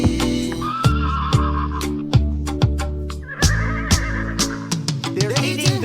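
Horses whinny and neigh repeatedly in loud, close bursts, overlapping one another with braying and honking animal calls and a sharp rhythmic beat running underneath.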